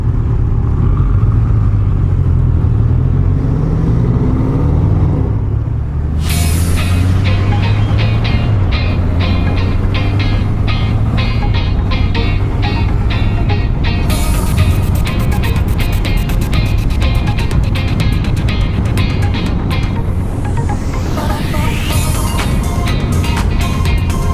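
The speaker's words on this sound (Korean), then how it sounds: "오 포르쉐 우후" A Porsche drives past on a road, its engine rising and falling as it goes by, heard from a motorcycle riding two-up with steady wind and engine roar throughout.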